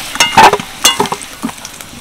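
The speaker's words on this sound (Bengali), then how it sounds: "আলুগুলো ভেজে নিলাম।" Potato pieces with a pinch of turmeric and salt fry in hot oil in a kadai, with short sputtering sizzles and a few stirring scrapes over two seconds, close and fairly loud.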